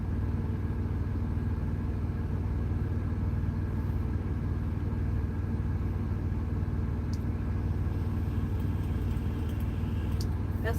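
A semi truck engine idles at a truck stop in Portage, Indiana, giving a constant, loud, low diesel rumble with no change in pace, close and steady throughout.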